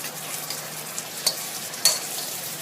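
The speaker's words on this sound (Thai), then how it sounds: "ผัดเข้ากันค่ะ ผัดให้แห้งๆนะคะจะได้อร่อย" Egg noodles being stir-fried with tomato and chili in a hot pan, giving a steady, fairly faint sizzle with soft scraping stirs and two brief louder clinks of a utensil on the pan. There is no talking.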